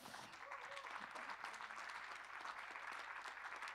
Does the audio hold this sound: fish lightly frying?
no